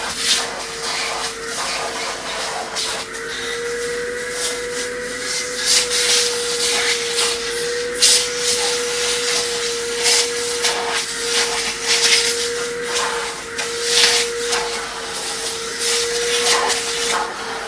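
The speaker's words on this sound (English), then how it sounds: "So for that we'll use hoover." A vacuum cleaner hoovering the leather seat of a car, a steady whining drone with a constant tone running throughout, punctuated by scraping and rubbing as the nozzle moves over the seat joints.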